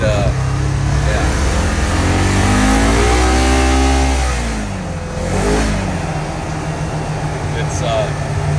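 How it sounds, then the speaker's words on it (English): A Polaris General utility vehicle engine runs steadily and loud, rising and falling in pitch as it revs while driving, with wind and rumble throughout. "just driving this Polaris General after the shock rebuild"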